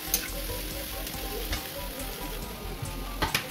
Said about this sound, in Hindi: अब मैं वेजिटेबल्स अपना जो भी कट की हूँ उसे डाल के